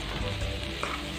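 Kalyana paruppu usili, a Tamil lentil dish, being stirred in a hot pan: a steady close sizzle with a faint scrape partway through.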